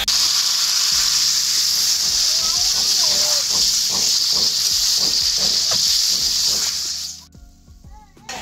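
Jackfruit and potato pieces fry in a pan for a Bengali curry, giving a loud continuous hissing sizzle with a voice talking over it, before the hiss abruptly drops away near the end.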